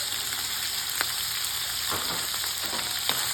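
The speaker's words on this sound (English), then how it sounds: "In a fry pan, we put 2 spoons of olive oil, extra virgin. We add the bacon. We add the peppers." Bacon and peppers fry in extra virgin olive oil in a pan, giving a dense, continuous sizzle with a few faint crackles and stirring clicks, close up and steady throughout.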